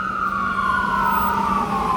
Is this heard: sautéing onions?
no